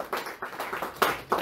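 Congregation in a church service clapping to acclaim the Lord: a short run of sharp, fairly close handclaps in a loose rhythm, with a couple of louder claps near the end.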